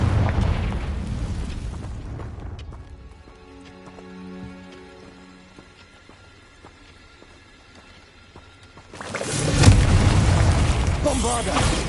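Bombarda explosion spell from Hogwarts Legacy, a loud booming blast at the start and another heavy burst near the end, with quieter game ambience and tonal music in between.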